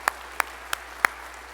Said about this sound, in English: So if we could please give a large round of applause to those employees and volunteers.